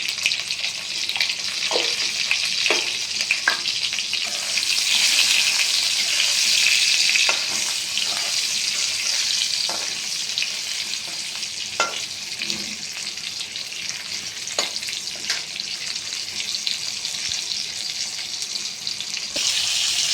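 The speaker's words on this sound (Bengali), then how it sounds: "একটু হালকা হাতেই ভাজবেন।" Pointed gourds stuffed with filling sizzle in oil in a kadai, sprinkled with salt and turmeric, a continuous close crackle lasting about twenty seconds and punctuated by occasional sharp clicks and taps, with no one speaking.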